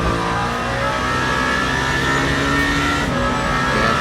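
Race car engine at Le Mans in Le Mans Ultimate, running alongside a GT3 field at the 24 Hours, a loud, steady high-revving roar holding constant for the whole stretch with no talk.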